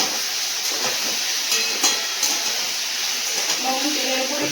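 Potatoes dropped into hot oil in a pan with lightly fried onions: a steady, bright sizzle and hiss throughout, with a few faint clinks and stirring sounds.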